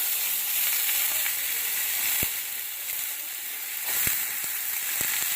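Onion fries in a pan with a steady, fairly loud sizzle and hiss, broken by a few sharp clicks and pops, with no talk.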